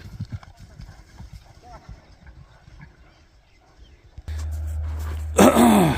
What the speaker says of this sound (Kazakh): Мына туугандар, экинчи ат келди.